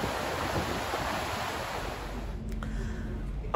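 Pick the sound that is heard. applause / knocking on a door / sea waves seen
sea waves seen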